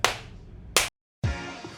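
A man claps sharply to open a whisky podcast recording, two loud close claps a fraction of a second apart followed by a brief gap of silence, then room noise and a voice resuming.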